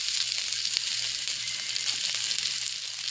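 Onion and garlic sizzle in oil in a wok for chicken tinola, giving a constant close bright crackle with soft stirring scrapes underneath.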